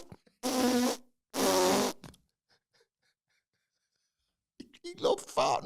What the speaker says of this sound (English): He loved fart number 8.